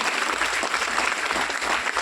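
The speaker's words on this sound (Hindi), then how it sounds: "एक बार जोरदार ताली नीचे कार्डियोडॉग रस के लिए।" An audience at an Ayurvedic product presentation claps loudly and steadily for a couple of seconds, a dense, continuous burst of applause.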